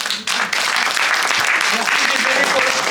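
Audience clapping at a poetry recital, dense and sustained for about three seconds, fairly close and loud, starting just after a brief pause.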